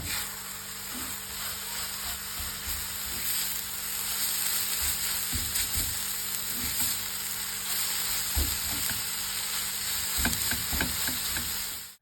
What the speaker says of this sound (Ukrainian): Але теж будемо ми обсмажувати моркву зовсім трішки